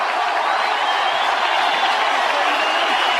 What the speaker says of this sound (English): A cheer you can hear is for Dustin Martin coming off the ground.